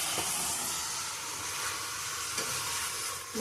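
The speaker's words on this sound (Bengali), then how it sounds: "মাটনটাও ভালো করে ভাজবো" Goat mutton frying with spice masala in a pan for a Bengali curry gives a steady, loud sizzle with soft stirring scrapes, continuous throughout and without any talking.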